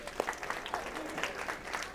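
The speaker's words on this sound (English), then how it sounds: "Give Philip a big round of applause" A live show audience gives a round of applause for Philip, a fairly faint, sparse patter of clapping with a few sharper individual claps standing out, continuing for about two seconds.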